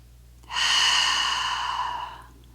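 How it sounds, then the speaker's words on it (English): Sustained breath sound during a hip-stretching exercise routine, a single long exhale lasting about a second and a half, close and fairly loud against a quiet room. "Keep breathing."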